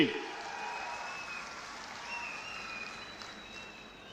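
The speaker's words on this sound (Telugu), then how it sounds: "మీరందరూ కూడా గట్టిగా చప్పట్లు కొట్టి అభినందించండి" An audience applauds at an outdoor public event, a steady wash of clapping that holds for several seconds and sounds somewhat distant.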